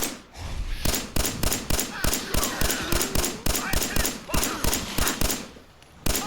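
Repeated gunfire in Fallout 4 during a fight with super mutants: loud, evenly spaced shots land in a steady rhythm, about three per second, over a busy background, then stop.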